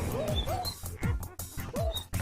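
Minecraft dogs let out a rapid series of yips and barks with whiny, whimpering tones, fairly close and loud, repeating about four times over a steady game background, with no talking.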